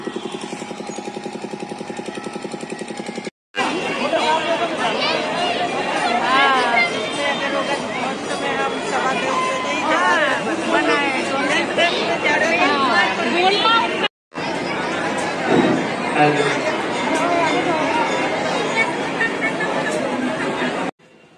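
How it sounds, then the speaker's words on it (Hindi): Dense crowd babble fills a packed Hindu temple, a continuous wash of many overlapping voices at close range, broken by two brief dropouts. "बहुत भीड़ थी मंदिर में।"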